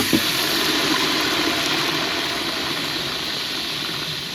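Cut brinjal pieces dropped into hot sesame oil for kuzhambu, a steady loud sizzle that fills the clip and fades slightly as it goes on.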